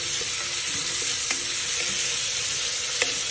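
Onions fry in a pan while being stirred, a dense, close, continuous sizzle with light scraping strokes at irregular intervals and no voices.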